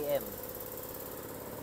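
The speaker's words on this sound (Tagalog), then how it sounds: "Ito yung loob ng ating Toyota Rush. Naka-rev siya ngayon ng 2000 RPM." A 2021 Toyota Rush automatic engine hums in a steady, low drone at about 2000 RPM while warming up, heard from inside the vehicle after a brief higher tone at the start.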